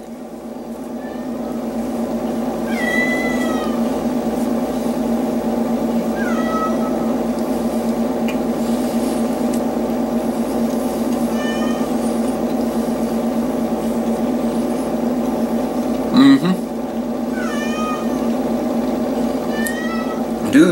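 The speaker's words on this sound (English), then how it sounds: "cat's in the background" A house cat meows repeatedly at a distance, short cries scattered over a steady indoor hum, with one louder yowl near the end; no talking.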